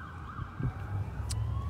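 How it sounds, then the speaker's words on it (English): A siren wails steadily in the background, distant and continuous, with a low rumble beneath it and no talking. "as we hear a siren in the background"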